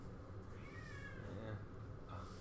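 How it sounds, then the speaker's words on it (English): A domestic cat meows in the background of a room, faint mewing cries half-buried under steady low household noise, with people talking nearby. "That's our cat meowing in the background."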